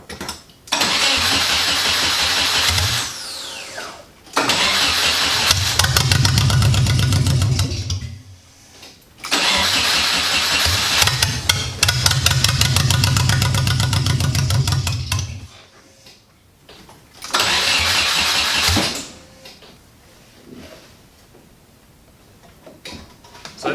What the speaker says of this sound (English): So I think the battery's just too dead to fire it over.